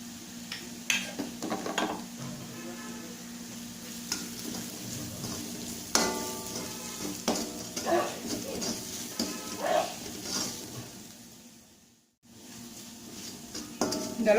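Soya keema, meal maker chunks, sautés in a pan with cumin, turmeric, coriander and chilli powders, heard as a soft continuous sizzle broken by repeated spoon scrapes and stirring clatter against the pan.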